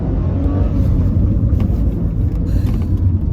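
A Mitsubishi Galant accelerates in first gear, heard from inside as a steady, close, deep engine rumble and road drone throughout.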